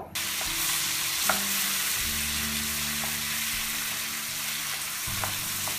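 Chickpea lentil paste for halua fries in a pan, a steady broad hiss throughout with a few faint scrapes of a stirring spoon, even and unbroken with no voices.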